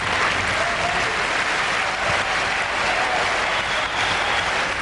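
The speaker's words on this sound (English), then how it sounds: "And listen to the crowd, the hometown crowd." Dense, sustained applause from a large home crowd at the 1994 ATP Finals tennis final, a loud, even wash of clapping with no pauses.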